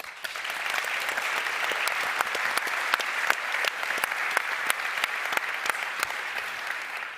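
A crowd at a cycling team presentation gives sustained applause for the coach, a full, even roar of many clapping hands lasting around seven seconds with crisp individual claps standing out, no talking over it.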